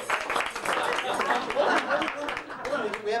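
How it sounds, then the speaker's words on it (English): Audience applause and cheering after a magic trick at a 1994 magic parlor show, a dense wash of clapping mixed with crowd voices, loud and continuous. "Big round of applause,"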